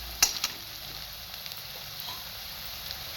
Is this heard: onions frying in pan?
yes